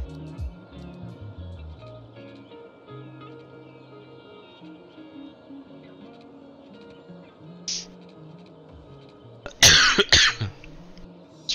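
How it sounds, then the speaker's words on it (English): A man coughs a few times in close, harsh bursts near the end, after a stretch of quiet background hum and faint tones. "Sorry guys for the cough."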